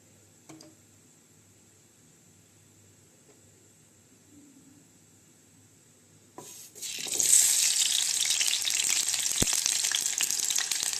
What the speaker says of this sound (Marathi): बटाटे फ्राई करून घ्यायचे तेलात